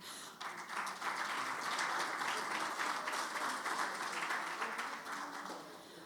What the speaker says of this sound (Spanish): les pedimos nuevamente un fuerte voto de aplauso para este excelente panel